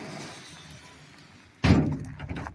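A door at a country house is shut on a cold evening, landing as one solid, close thud with a short rattling decay after a quiet stretch of faint room tone.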